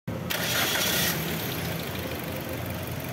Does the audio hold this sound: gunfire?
no